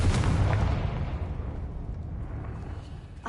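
A Confringo blasting spell explodes in Hogwarts Legacy with a heavy, close boom that rolls into a dense, slowly fading rumble, with no voices over it.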